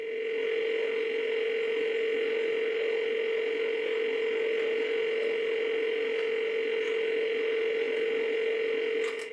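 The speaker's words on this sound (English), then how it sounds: "The sound, on the other hand, comes down to the buzzing of the engine through the system speaker and various warning signals." An 1980s PC flight simulator game runs on a 286 replica, its engine buzzing through the PC system speaker as a steady, unbroken tone with harmonics, moderately loud and alone.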